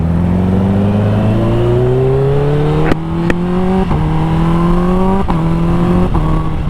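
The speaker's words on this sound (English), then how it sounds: "let's go take my Kawasaki H2 for a ride" A Kawasaki H2 motorcycle engine revs up through several gears while riding, its pitch climbing and then dropping sharply at each shift, loud and close throughout.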